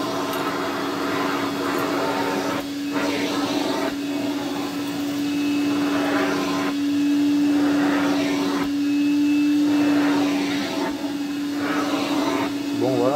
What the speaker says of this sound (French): ça reste un aspirateur